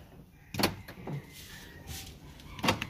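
A car's central locking system throws all the door locks at once, heard as two short, sharp mechanical clunks a couple of seconds apart over quiet background.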